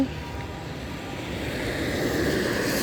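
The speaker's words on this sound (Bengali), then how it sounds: "প্রচুর পরিমাণ বৃষ্টি হচ্ছে।" Heavy rain pours down on a road as vehicles move along the slick street, a dense, steady hiss that swells slightly louder toward the end with no voices.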